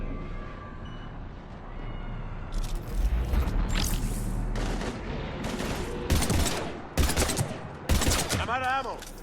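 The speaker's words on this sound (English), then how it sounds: "We're taking heavy fire." Heavy gunfire in Mass Effect 3: repeated loud bursts of automatic fire and sharp impacts in irregular clusters, with voices shouting between the shots.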